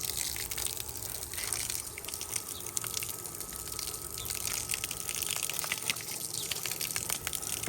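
Steady gushing water rinses a 135 lb Cane Corso during a bath, a constant faint hiss of spray running without pause and no voices.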